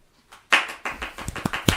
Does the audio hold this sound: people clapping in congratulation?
yes